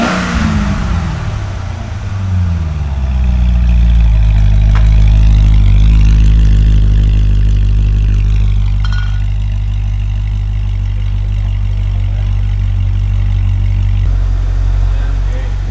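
A wrecked Chevrolet Corvette C6 Z06 cranks and fires up, then holds a loud, deep idle with brief throttle blips. It sounds close, and people talk briefly over it.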